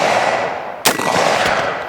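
A single sharp gunshot from an AR rifle fitted with a 13.9 upper, fired outdoors at close range, cracking once loudly with a short echoing tail, followed by a fainter second report.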